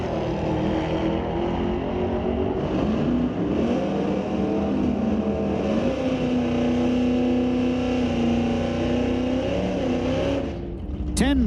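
A wheelie-machine drag race car at Mission Raceway Park roars steadily down the strip, its loud engine droning with shifting harmonics for several seconds before a sharp burst near the end.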